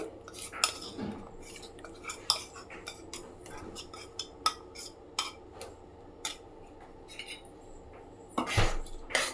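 A utensil scrapes and taps against a cooking pan while curd masala and green peas are stirred, giving irregular close metallic clinks at a quiet level, with a louder clatter near the end.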